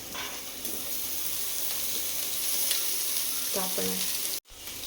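Fish sizzling in a pan with softened, browned onions for Tamil-style fish puttu, a steady close frying hiss with a brief stir near the end.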